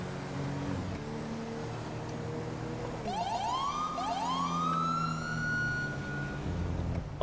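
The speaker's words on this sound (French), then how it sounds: "personnellement, j'adore cette sirène" A police siren in the video game GTA 5 with the LSPDFR mod wails up and down, rising in pitch over a low engine drone, sustained and fairly close.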